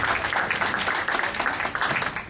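A crowd applauds at a sprint car race during the Knoxville Nationals, a dense steady wash of clapping close and loud throughout.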